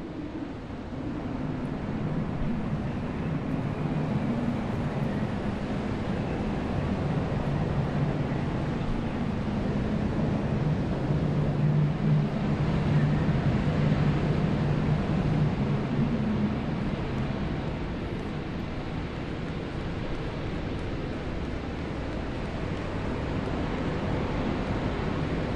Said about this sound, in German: Und nochmal Wind.